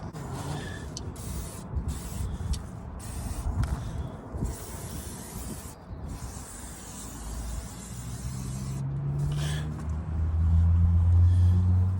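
Aerosol spray can hissing in long bursts over a Dana 44 rear differential, close and steady, with a low rumble building toward the end.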